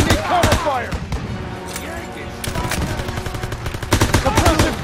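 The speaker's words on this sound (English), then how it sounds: "Suppressive fire. Keep firing." Call of Duty: WWII combat with rapid bursts of gunfire, sharp repeated shots and sustained automatic fire, loud and close, with shouted voices from the game mixed in.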